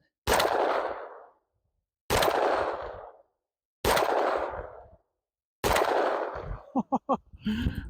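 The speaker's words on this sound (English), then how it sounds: "Got the 10 mil. Ooh, first shot." Four loud 10mm pistol shots fired at an ice target, each a sharp blast with a decaying tail, spaced about two seconds apart; after the last, brief clattering or debris sounds follow.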